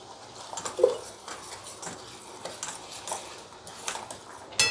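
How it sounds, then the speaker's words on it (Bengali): Thick gram flour (besan) batter is whisked in a bowl, producing a light, irregular run of soft taps and clicks close by. "আমি বেসনটা একটু মোটা করে ফেটিয়ে নিই।"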